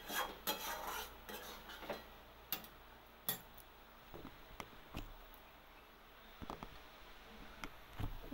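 A pan of loitta fish shukto curry being stirred, with scattered clinks and scrapes of a utensil against the pan, quiet and close over a faint background hum.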